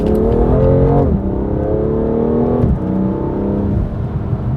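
A BMW F87 M2 Competition with full bolt-on modifications accelerates hard, its engine revving loudly and close, climbing in pitch with two quick dips where the gears shift, and no voices over it.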